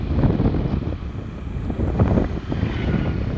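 Strong wind blows near a beach lined with trees, a loud, gusty roar that rises and dips as it batters the microphone, with no one speaking.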